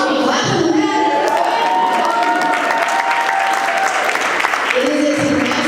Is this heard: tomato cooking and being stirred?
no